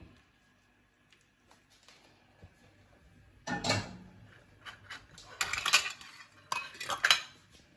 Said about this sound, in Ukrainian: Заливаємо наш маринад у баночки та накриваємо стерилізованою кришкою.